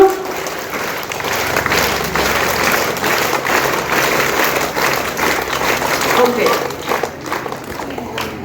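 Sustained applause from a school audience at a Basheer Day programme, steady clapping from many hands filling the whole stretch without a break.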